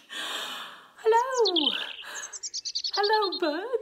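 Several birds lined up outside a window chirp and whistle close by: rising and falling calls, then a quick run of sharp repeated notes, with a softer breathy sound at the start.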